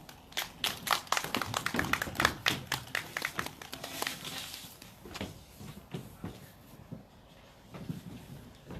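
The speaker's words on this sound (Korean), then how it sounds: "다시 한번 박수 부탁드리겠습니다" Audience at a candlelight rally in Seongju clapping, a few close, sharp individual claps in a loose rhythm that fades gradually toward the end.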